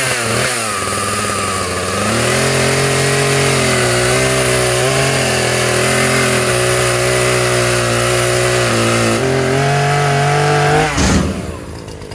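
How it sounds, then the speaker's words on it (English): A chainsaw engine revs loud and steady up close, its pitch dipping and rising as it bites through wood for a mine shaft head frame, then cutting off at the end. "So I think the proper tool to do this is going to be a chainsaw."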